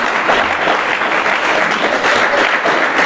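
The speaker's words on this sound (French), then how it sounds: "Est-ce que quelqu'un peut applaudir la parole de Dieu?" A church congregation applauds during a sermon, a loud, continuous and even roar of many hands clapping together that holds steady throughout with no voices standing out.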